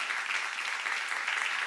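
Church congregation applauding during a sermon, a steady even wash of many hands clapping together, fairly faint and continuous throughout.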